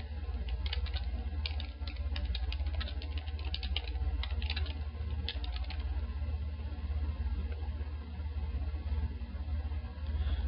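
Fingers clatter steadily on a computer keyboard, a close, continuous run of quick key presses with small bursts and pauses over a low hum, with no talking.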